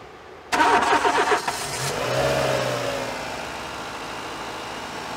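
A car engine cranks and catches during a repair session, with a sharp starter whirr near the start, then settling into a steady idle that holds to the end, close and fairly loud with no talk over it.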